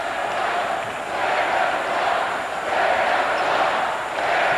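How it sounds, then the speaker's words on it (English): A basketball crowd at Rutgers in Piscataway chants in unison during the 1988 Atlantic 10 women's tournament final against St. Joseph's, the arena chant swelling in rhythmic waves and filling the hall. "the crowd letting everyone know that we are number one. That's the chant."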